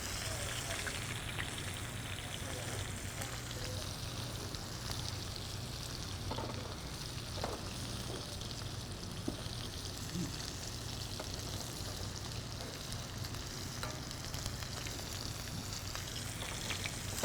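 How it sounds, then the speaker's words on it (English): A seared ribeye steak being basted in a pan with sage and rosemary, giving a quiet, even crackling sizzle that holds steady throughout with faint spoon clinks, heard at a low level. "We're gonna baste this side. Make sure you get that fat cap full of some flavor."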